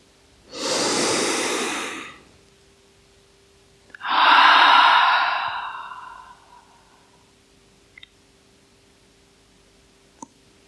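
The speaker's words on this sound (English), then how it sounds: "And exhale. And the last one, inhale." Slow, deep yoga breathing at the end of an evening yin yoga class: one long airy inhale, then a longer exhale, close to the mic, followed by quiet with a couple of faint clicks.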